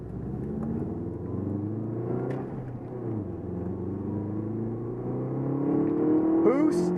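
A 2002 Subaru Impreza WRX wagon accelerating, heard from inside the cabin as a steady engine drone that swells as the turbo boost comes on near the end.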